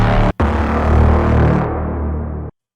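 A harsh, distorted wash that swells steadily forward, thick with echo, then cuts off abruptly: a reversed distorted reverb tail, a horror sound-design signature made in the Vital synth.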